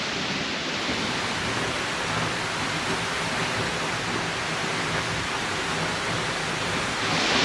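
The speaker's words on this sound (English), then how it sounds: "Just got absolutely soaked just walking past that waterfall." A waterfall in Iceland on a windy day roars with a dense, steady rushing wash of water and spray, loud and unbroken throughout with no voices.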